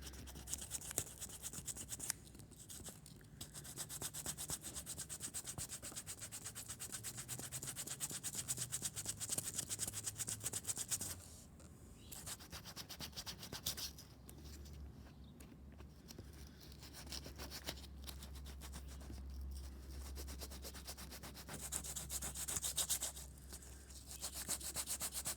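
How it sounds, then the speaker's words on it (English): Sandpaper rubbing back and forth over the rubber of a Razor E200 electric scooter tyre around a puncture, a continuous close scratchy rasp with a few short pauses and a low hum underneath. "So what I want to do is actually try and sand most of that away so I get a nice flat surface."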